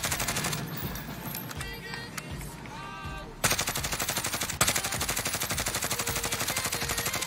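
Gunfire in Call of Duty Warzone: scattered shots and clatter at first, then sustained rapid automatic fire in a fast, even rhythm, loud and close.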